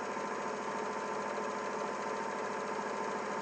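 A sewing machine stitches two raw fabric edges together in a steady, continuous run, its motor humming and needle chattering evenly at close range with no pauses and no talk.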